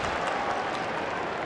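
Crowd at a 1995 AFL football match between West Coast and Carlton, just before half-time, a broad, steady wash of stadium noise with scattered clapping, moderately loud and unbroken.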